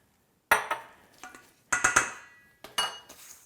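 A spoon stirs and scrapes a vegan eggplant meatball mixture with flaxseed in a bowl, producing three clusters of sharp clinks and knocks against the dish separated by quiet pauses.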